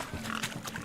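Pigs oink and grunt in a short, fairly faint burst during a painted-pig chasing contest at a wedding in The Witcher 3.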